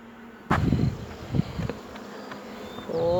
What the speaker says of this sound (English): Look at the activity on there.